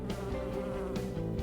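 Honeybees buzz with beating wings in a close, continuous drone that pulses slightly as insects move near and away, with no voices.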